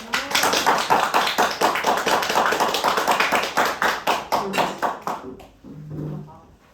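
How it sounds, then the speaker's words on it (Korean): Brisk, rhythmic applause from a classroom of students greeting a presenter, loud and steady for about five seconds before fading into a brief murmur. "박수"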